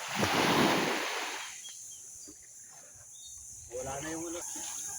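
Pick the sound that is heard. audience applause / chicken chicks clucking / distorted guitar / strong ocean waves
strong ocean waves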